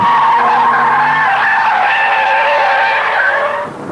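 A 1988 Volkswagen Corrado G60 driven hard on a runway, its tires squealing loudly and continuously through a long skid that fades out near the end.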